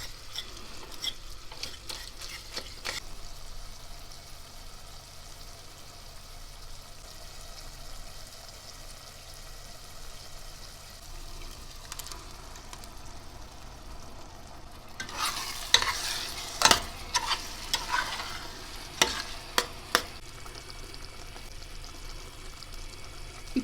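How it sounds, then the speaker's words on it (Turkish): A spoon stirs pepper paste and tomato paste into meat frying in a pot for a Turkish dried okra stew, faint sizzling underneath with scraping clinks, a louder burst of stirring and knocks toward the end. "Şimdi salçalarımızı güzelce karıştırıyoruz."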